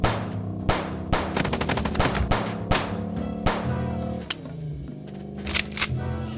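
Automatic gunfire in the video game Chicken Police, a string of sharp, rapid shots over a sustained droning game soundtrack, loud and up front with no talking.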